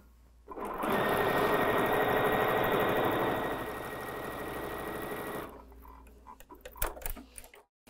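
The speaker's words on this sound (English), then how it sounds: "We're going to sew a quarter inch right on here." A sewing machine runs steadily, stitching quarter-inch seams through patchwork charm-pack fabric for a laptop case, a loud continuous mechanical whir for about five seconds before stopping, followed by a few soft handling clicks.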